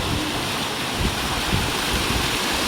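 Water rushing through an irrigation channel in a village in Uttar Pradesh, a loud, steady, broadband flowing roar close by with no talk.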